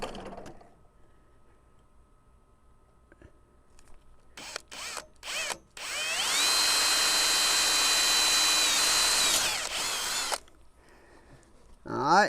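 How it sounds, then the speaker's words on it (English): A power drill drives a self-tapping screw to mount a 24-inch 200W LED light bar: a few short starting bursts, then a loud, steady whine for about four seconds that stops abruptly, with faint talk around it. "I'm just gonna use a self-tapping screw to hold this light on there"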